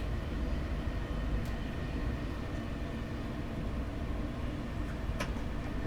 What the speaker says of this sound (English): I am gonna help the train out with 2 notches of brake.